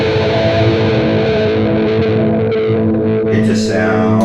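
Distorted electric guitar through the flanger on a Neural DSP Quad Cortex with depth and feedback at maximum, a harsh, metallic, ringing sweep over sustained chords, loud and close with no talk.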